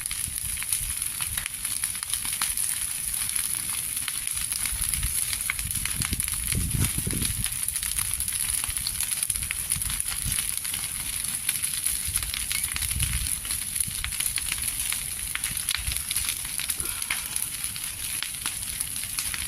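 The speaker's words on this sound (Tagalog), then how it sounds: "Nakatakot yung apoy pa. Sobrang laki." A large outdoor fire on a small farm burns with steady broadband roar and crackle throughout, with occasional low rumbling surges, close and continuous.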